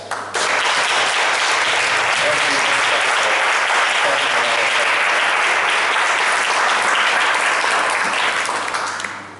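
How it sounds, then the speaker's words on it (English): Sustained, dense audience applause fills the room at an office opening ceremony, loud and steady with no pause for several seconds before it begins to fade. "Let's give another round of applause to our panelists and our moderators"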